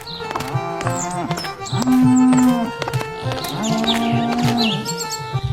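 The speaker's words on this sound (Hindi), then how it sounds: "जहां सारे भैंसे बंधे थे।" Buffaloes low repeatedly in a stable, with several drawn-out moos of different pitch overlapping close by and a few faint bird chirps in the background.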